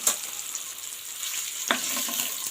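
Egg frying in a pan in a home kitchen, just before being lifted out: a soft, steady oil sizzle with a couple of brief scraping clicks, close and moderately quiet, no talking.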